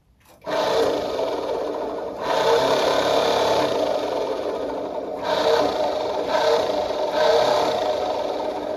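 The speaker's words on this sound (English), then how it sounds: "Put the wiring onto the starter motor from there, which is hooked up to the button. So now I'll push this in and we'll see if it works." A Bolens Ride-a-matic garden tractor's electric starter motor cranks steadily after a button press, a loud sustained mechanical whirring and clatter running for about eight seconds. It dips briefly in a few places without stopping.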